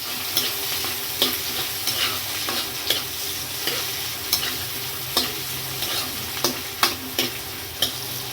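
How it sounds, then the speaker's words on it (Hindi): Green chillies sizzle and fry in a pan for bhindi aloo, a steady hiss broken by regular scraping stirs of a spoon, close and moderately loud with no talking. "अब हरी मिर्च डाल रही हूँ। तो 1-2 मिनट चलाएंगे।"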